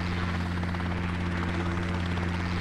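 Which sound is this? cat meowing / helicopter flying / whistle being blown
helicopter flying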